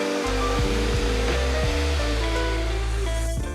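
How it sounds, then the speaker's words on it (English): A power sander smoothing a wooden mortise-and-tenon plant shelf gives a loud, steady whir that runs without a break throughout, with tonal sounds over it. "spend maybe about a minute going over it with my sander, and it creates perfect smooth finish results"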